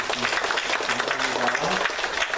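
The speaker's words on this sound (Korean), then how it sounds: "우리 권사님, 집사님 격려하는 박수 하도록 하겠습니다" A church congregation at Sunday worship claps to encourage the deaconesses and deacons, a loud, dense burst of hand clapping with a voice or tones faintly running beneath it.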